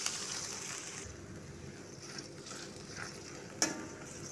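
A small amount of water hits bean sprouts and tofu frying in a pan, giving a faint, steady sizzle with light stirring and one sharp clink of a utensil near the end.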